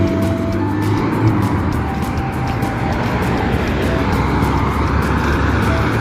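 Fire truck speeding along a street at night, a loud, steady roar of traffic rushing past nearby, dense and continuous throughout.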